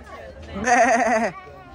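A goat at the Devon County Show 2023 lets out one loud, quavering bleat lasting about a second, close by, with faint background murmur before and after.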